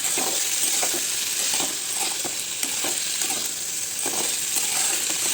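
Drained potatoes are stirred into a spiced tempering in a pan for a simple potato curry, giving a continuous sizzle with soft, recurring scrapes of the spoon and no talking.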